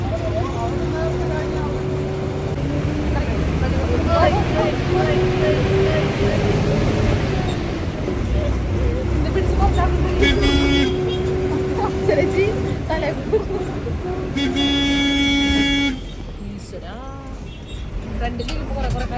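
Inside a bus bound for Mananthavady, the engine drones loud and steady with road and traffic noise throughout, some tonal horn-like notes rising mid-way, and indistinct voices mixed into the din.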